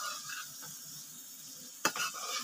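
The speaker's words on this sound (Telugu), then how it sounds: "ఇలా మెల్లిగా కలుపుకోవాలండి" A spoon gently stirs an egg curry mixture in a pan, giving soft scraping and faint sizzling, quiet and close, with one sharper clink of utensil against the pan partway through.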